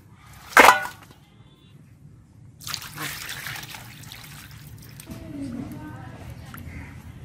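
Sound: water while washing sorputi fish

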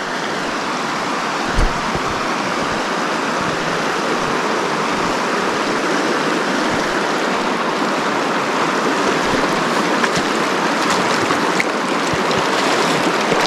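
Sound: icy snowmelt river flowing, Yumthang Valley, Sikkim

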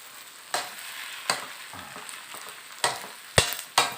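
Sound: stir-frying marinated pork

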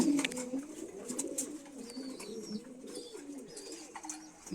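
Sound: pigeons cooing

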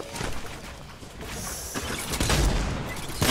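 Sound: gunfire in a video game

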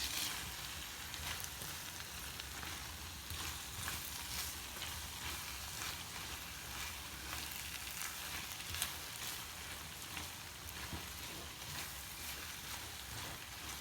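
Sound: stirring frying food in pan

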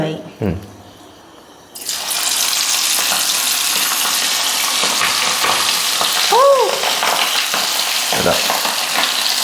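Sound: mussels frying in hot oil

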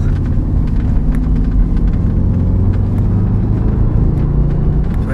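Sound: Audi RS4 engine revving while driving

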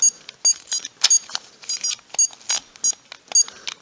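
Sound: cheap handheld electronic toy game beeping

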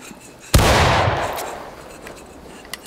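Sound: musket volley gunfire in video game War of Rights

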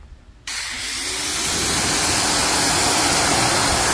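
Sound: garden hose spraying water on ceramic-coated Kia Carnival

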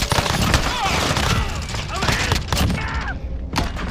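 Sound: precision airstrike in video game Modern Warfare Warzone

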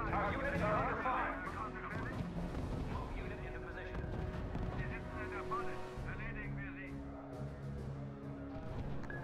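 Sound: artillery and gunfire in the RUSE video game

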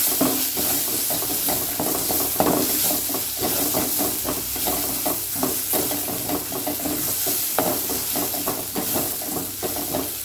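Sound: vegetable noodle masala simmering in pan

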